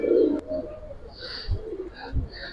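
A Giribaz pigeon coos close by, low soft burbling calls repeated twice over a short stretch, with faint background noise.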